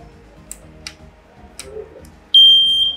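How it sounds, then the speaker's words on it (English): A battery-operated smoke detector sounds its alarm, a loud, steady high-pitched tone that starts abruptly partway through and holds, preceded by a few faint ticks and clicks. "I'm going to sound how this alarm or how this sound will go in case of any fire outbreak."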